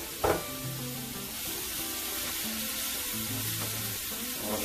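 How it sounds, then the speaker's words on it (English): Onion, garlic and ginger sizzling in hot extra virgin olive oil in a pan, a steady, fairly quiet crackling fry with an early clatter of the food going in and faint stirring scrapes. "So we're just going to add our onion, garlic, and ginger to the pan."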